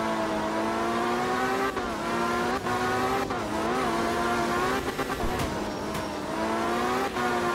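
A rally car in art of rally drives a wet German stage, its engine droning loudly and steadily with rising and falling revs and brief shifts, close and continuous.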